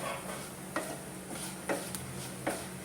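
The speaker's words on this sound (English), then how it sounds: "I'll add in the coriander powder and the zira, that is the cumin seeds. Remember, I've switched off the flame. I'll just mix it all together" Coriander powder and cumin seeds being stirred together in a pan off the heat, with a soft continuous scraping and three or four sharper taps of the spoon against the pan at steady intervals.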